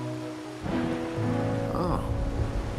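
Rain falls in the video game Wuthering Waves as a soft, steady patter beneath sustained, tonal background music.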